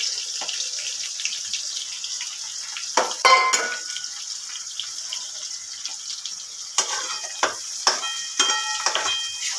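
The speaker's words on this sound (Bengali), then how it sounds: "ভাজা ভাজা করছি শুকনো লঙ্কাটা," Dried red chillies and onions fry in hot oil, giving a steady close hiss with scattered pops and a few louder crackling bursts.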